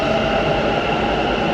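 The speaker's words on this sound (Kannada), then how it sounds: "ಇನ್ನೊಂದು ಟ್ರೈನ್ ಬಂತು ಈಗ" Metro train at MG Road station, a steady broadband rumble and hum of a train running close by, continuous and fairly loud with no voices.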